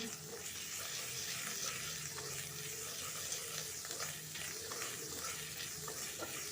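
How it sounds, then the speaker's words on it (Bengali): Garlic and ginger fry in a little oil before lentil dal is added, producing a quiet, steady sizzle with light stirring, fairly faint and continuous without speech. "একটুখানি নাড়বো যতক্ষণ না আদার কাঁচা গন্ধটা যাচ্ছে আর রসুনটা একটু ভাজা ভাজা হচ্ছে"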